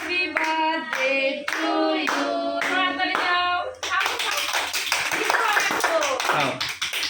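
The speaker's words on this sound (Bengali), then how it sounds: "হাততালি দাও।" At a family birthday party, the last line of the birthday song is sung, and then a few people clap and cheer in a loose, lively burst. Voices chatter over the clapping.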